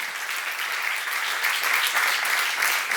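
Steady applause from a church seminar congregation, dense and continuous for the whole stretch, swelling slightly toward the middle.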